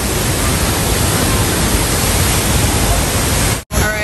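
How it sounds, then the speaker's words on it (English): Loud, steady roar of La Fortuna Waterfall in Costa Rica, dense and constant like a powerful waterfall up close, cutting out abruptly near the end. "Oh my gosh, look at the power. Just the pressure coming from the"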